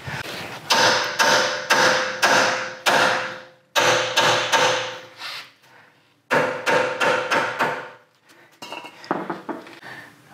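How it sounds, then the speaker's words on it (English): A hammer knocks on the upper control arm ball joint of a 100 Series Toyota Land Cruiser: bursts of loud, ringing metallic strikes in quick runs, pausing between sets, close and without talk. "you want to get the ball joint out, which I'm going to get a hammer to do."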